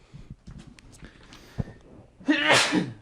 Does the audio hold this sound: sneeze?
yes